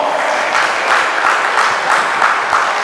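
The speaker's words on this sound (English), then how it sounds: "So give her a round of applause" A convention audience gives a round of applause, a dense wash of many hands clapping at a steady, even level with soft pulsing surges and no voice over it.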